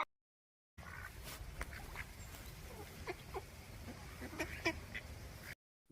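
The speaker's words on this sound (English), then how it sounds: "D for duck." A duck quacks several times in a short, lively burst, close and clear, with no other voices, in a children's alphabet phonics song.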